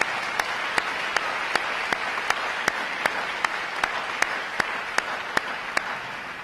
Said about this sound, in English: let's give them a round of applause right now again.